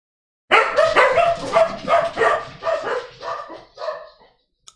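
Dogs bark indoors, loud and close, in a run of about eight quick barks that fade slightly toward the end, with no one talking over them.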